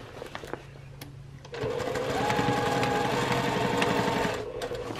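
A sewing machine backstitches over a seam on a fabric bucket bag, a close, rapid, steady whirring stitch run of about three seconds that begins after quieter handling noises and then stops.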